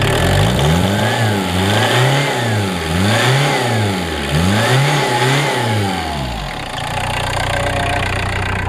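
A diesel truck engine revs up and down repeatedly in rising and falling waves, close and loud, before dropping back to a steady idle.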